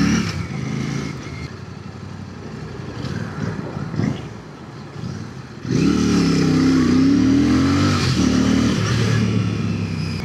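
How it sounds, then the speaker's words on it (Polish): A Royal Enfield Classic 650 motorcycle engine idles, then revs up loudly and close, its swelling roar filling the second half after a quieter stretch of road noise. "Dźwięk silnika."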